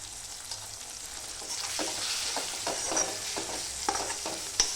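Tomatoes frying in oil with red chilli powder, turmeric and salt for a potato bhaji, a soft steady sizzle with scattered spatula scrapes and stirring clicks close by, no talking.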